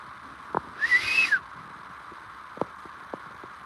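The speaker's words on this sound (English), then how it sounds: "That was a whistle." A single rising-and-falling whistle sounds at a distance in the woods, lasting about half a second, surrounded by quiet with a few sharp knocks or taps before and after.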